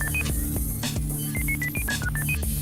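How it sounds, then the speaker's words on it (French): A control room dials a telephone number, giving a quick series of short, evenly spaced electronic tones over a steady low background hum. "La régie fait maintenant le numéro."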